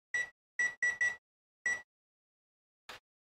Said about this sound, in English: Let me get the timer on here.